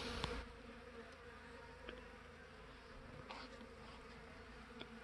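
Honey bees robbing a weakened spring hive, a steady close buzzing drone of many insects throughout, with a few brief sharper passes and clicks, no talking.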